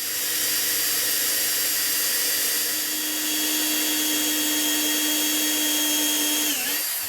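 A power drill bores a bit straight into the sawed bottom face of a wooden tree limb, a steady loud motor whine that holds for several seconds then winds down sharply near the end.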